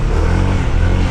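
Honda ADV 160 scooter engine with an aftermarket CVT revving hard, a loud, steady, close-up drone filling the whole moment without pause.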